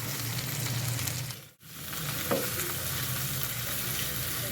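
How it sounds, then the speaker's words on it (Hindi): A curry (salan) warms in a pot, giving a steady close bubbling sizzle with a low hum underneath, briefly dropping out, then a single scrape of the stirring spoon. "चलो जी, सालन तो मेरा गर्म हो रहा है। इसको ना मैं अच्छी तरह से हिला लेती हूँ।"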